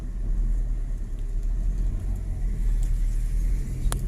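A vehicle rumbles steadily as it is ridden around a large building, a continuous low engine drone close by with no talking.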